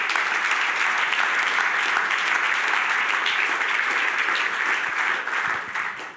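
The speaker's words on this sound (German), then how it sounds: "einen recht herzlichen Applaus." An audience at a church sermon gives a sustained burst of hearty applause, dense and steady throughout, easing slightly near the end, with no voices over it.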